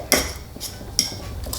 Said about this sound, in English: using a fork, you want to mix the bread with the milk, mashing in, trying to turn it into like a mushy type paste.